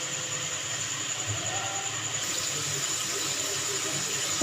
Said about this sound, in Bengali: প্রথমে কাজুটা ভেজে নিচ্ছি,